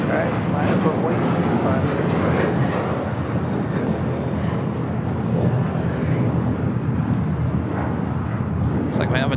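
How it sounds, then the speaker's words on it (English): A United Airlines Boeing 787-9 Dreamliner takes off from LAX, its engines giving a loud, continuous broadband roar, with a voice talking over it. "This is United Airlines 1260 taking off to Denver, Colorado on an 8-year-old 787-9 Dreamliner."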